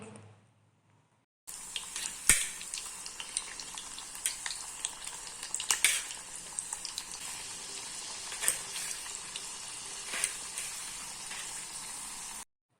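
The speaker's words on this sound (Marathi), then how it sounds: "तेल छान तापलं की यामध्ये एक एक करून आपल्याला सर्व चपात्या तळून घ्यायच्या आहेत" Chapatis frying one by one in hot oil in a wok on a gas stove, giving a steady close sizzle with scattered crackles and pops that starts after a short silence and runs without talk.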